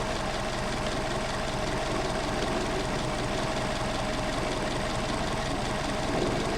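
A Mercedes 190SL engine with Solex PHH44 carburetors idles low and steady, a continuous close rumble with an even, throbbing pulse and no voices.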